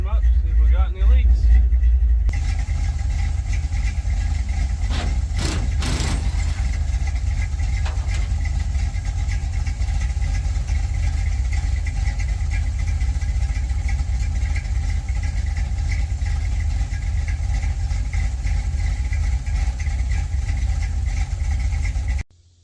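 An old truck engine idles steadily after a new hose has been fitted, a loud, continuous low rumble that runs unbroken for about twenty seconds before cutting off abruptly at the end.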